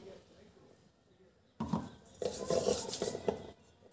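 Ghee is rubbed around a kadai with a metal utensil while cooking homestyle chicken biryani: a quiet stretch, then close, clattering scrapes and clinks of metal on metal.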